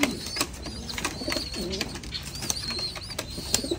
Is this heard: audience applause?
no